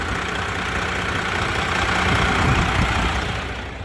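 A Freightliner with a Detroit 14L EGR diesel engine idles after a rebuild in a backyard, giving a steady, loud, continuous rumble that holds even through the clip and eases slightly at the end, with no talk over it.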